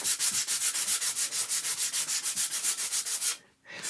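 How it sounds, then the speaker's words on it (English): Steady rhythmic rasping of sandpaper rubbed back and forth on a wooden stamp block, about six strokes per second, close and even, stopping briefly near the end. "So I'm just kind of sanding it down a little bit."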